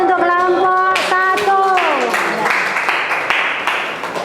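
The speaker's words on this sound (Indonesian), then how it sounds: "Beri aplaus untuk kelompok" A classroom group clapping for presenters after a lesson, with a voice speaking over the start, then a burst of applause that tapers off.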